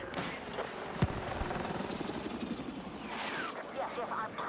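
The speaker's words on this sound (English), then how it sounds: "I'm tracking an enemy helo west of your location." Enemy helicopter in a Battlefield video game, a steady rotor and engine drone filling the whole stretch at moderate level, with faint game voices and effects layered over it.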